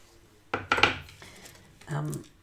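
A pestle knocks and grinds against cardamom pods in a mortar, giving a few sharp clinks close by, a brief scrape, then a duller crunch.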